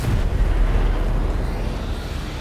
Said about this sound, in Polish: A teraz chyba wybucha.